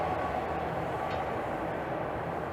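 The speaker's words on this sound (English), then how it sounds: "an empty train just rolled through heading southbound" An empty southbound Toronto Line 1 subway train rolls through Highway 407 station, a steady moderate rumble and rail roar heard from the platform.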